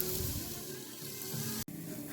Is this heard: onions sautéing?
yes